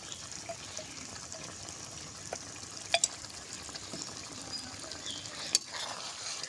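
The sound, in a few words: ghee added on top of radish paneer curry, frying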